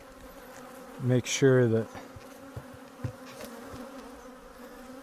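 Honeybees from an open hive during an inspection make a steady, low buzz throughout, with a brief burst of close speech near the start.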